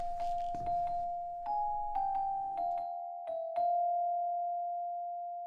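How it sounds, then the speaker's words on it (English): A doorbell sound effect from a radio comedy rings several times in a row, bright two-tone chimes that sustain and overlap, loud and close, with no voices over it. "Ring the bell, will you?"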